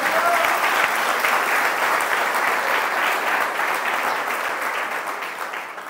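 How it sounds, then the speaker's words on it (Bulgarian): Church congregation clapping for the Lord, loud dense applause from a large crowd that holds steady and then slowly fades away. "Удари ръкопляска на Господа и кажи амин."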